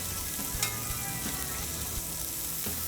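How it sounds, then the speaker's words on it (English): Scallops sear in grapeseed oil in a hot pan, giving a steady, close sizzle with a few soft pops and light clinks of movement as they are swirled. "I'm gonna gently swirl my scallops as I put them into the pan. Cooking them on a high heat."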